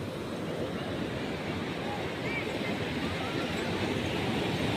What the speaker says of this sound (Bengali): কি সুন্দর লাগছে আস্তে আস্তে জলটা এদিকে এগিয়ে এগিয়ে আসছে